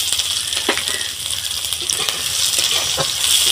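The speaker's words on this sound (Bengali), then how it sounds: "এর মধ্যে আমি পেঁয়াজ কুচি দিয়ে দিলাম।" Chopped onion hits hot oil with dried red chillies, bay leaf and a five-spice tempering for a ghugni with chicken trimmings, giving a loud, close, steady hissing sizzle broken by occasional stirring clicks.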